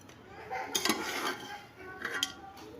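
Chicken biryani being mixed in a metal pot, a spoon scraping and clinking against the sides in a few uneven bursts, close and fairly quiet.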